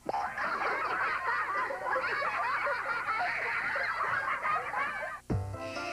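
A person mimics a parrot on a live children's TV show, letting out a loud, continuous stream of squawking, honking bird-like calls for several seconds, then breaking off abruptly near the end.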